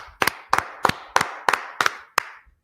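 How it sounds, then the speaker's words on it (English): A Tuesday Brotherhood class claps for the Lord: seven steady, evenly spaced claps with a short room echo, ending with one faint final tap. "You gotta clap it up for the Lord."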